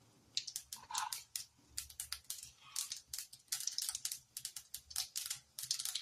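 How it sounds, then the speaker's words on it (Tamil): Mustard seeds crackle and spit in hot oil while tempering for a Tamil eggplant kara kuzhambu, a fast irregular run of sharp pops and sizzling bursts, close and fairly quiet. "எண்ணெய் நல்லா சூடாக இருந்துச்சுன்னா உடனே வந்து கடுகு பாருங்க எப்படி பொரிச்சு வருதுன்னு"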